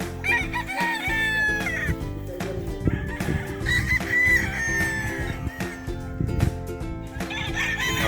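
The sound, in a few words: Sweater Boston gamefowl roosters crowing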